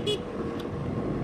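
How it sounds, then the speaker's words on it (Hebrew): A motorcycle horn gives a short, sharp beep followed by a fainter second tap, heard from the rider's position over a continuous rumble of road and traffic noise. "אני צופר לו, ביבי."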